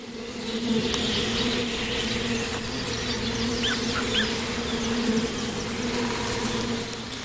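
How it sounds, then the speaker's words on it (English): Dense swarm of Wujan honeybees, a cold-hardy breed of the Russian wilds, hums loudly and continuously around large man-made hives, with individual bees flying close by and no voices. "The Wujan honeybees, found only in this region, can survive extreme cold"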